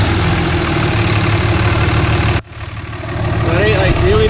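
A car engine with noticeable blow-by runs loud and close at a steady rumbling idle, briefly cuts out, then starts up again and settles back to idle.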